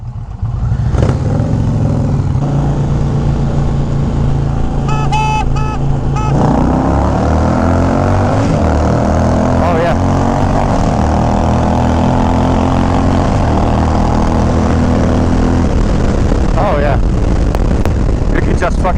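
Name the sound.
stage 1 tuned Challenger car engine accelerating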